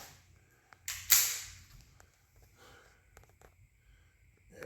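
A Walther .22 pistol fires CCI Mini Mag ammunition outdoors: a single sharp, crisp crack stands out from a quiet background, followed by faint rustling.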